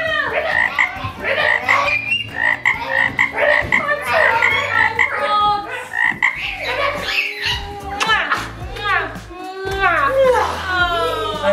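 Children play a frog game during a Valentine's Day family challenge, loudly croaking and ribbiting in imitation of frogs, their voices overlapping in rapid, lively bursts, up close with chatter mixed in.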